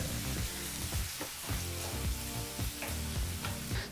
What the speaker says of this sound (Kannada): ಹೀಗಿಲ್ಲಿ ಈರುಳ್ಳಿ ಚೆನ್ನಾಗಿ ಫ್ರೈ ಆಗಿದೆ ಎರಡು ನಿಮಿಷ ಚೆನ್ನಾಗಿ ಫ್ರೈ ಮಾಡಾಯಿತು